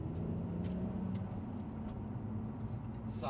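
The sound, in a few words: Alfa Romeo Brera 3.2 V6 engine running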